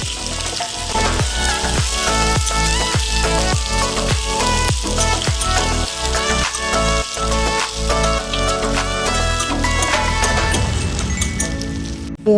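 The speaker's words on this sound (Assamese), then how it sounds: "পিঁয়াজখিনি অলপ গল্ডেন হোৱালৈকে ভাজিম" Onions frying in hot oil in a wok for an Assamese-style local chicken curry, a loud steady sizzle with rhythmic stirring scrapes throughout and no talking.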